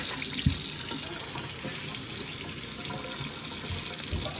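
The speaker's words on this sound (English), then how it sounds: "I use a wet rag, wet it up," Water from a wet rag being wrung out, a steady trickle and splatter running continuously, with a few soft knocks and drips against a basin.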